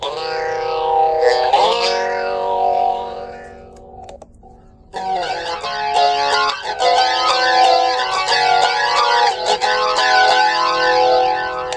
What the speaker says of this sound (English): now we've got our drive plus phaser.